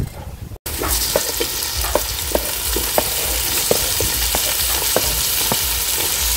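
Scallion, bell pepper, onion and parsley sizzle gently in a hot pan for a Beninese hors d'oeuvre, a steady close frying hiss broken by soft scraping stirs at regular intervals.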